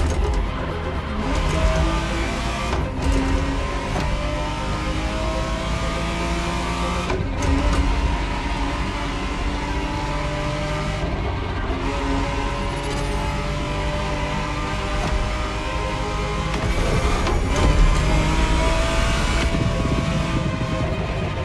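A 1991 Ferrari Testarossa 512 drives in a racing video game, its engine a steady loud drone with a broad, continuous texture and brief dips in intensity throughout.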